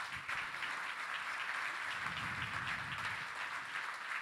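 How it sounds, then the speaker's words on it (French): Applause fills a hall at the 2023 Supply Chain Directors gala awards ceremony, a steady, dense wash of clapping from a large audience that holds at even loudness throughout. "et merci de les applaudir."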